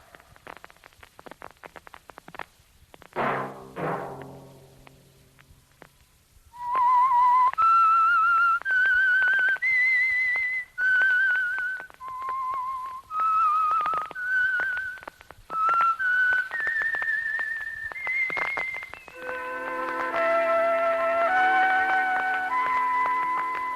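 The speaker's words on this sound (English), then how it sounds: "Let that whistle be your signal for the Signal Oil program, The Whistler" Signature whistled theme of The Whistler radio show, a lone clear melodic whistle rising and falling through a series of sustained notes, preceded by a brief musical chord and ending over an orchestral swell, slightly hissy old broadcast quality.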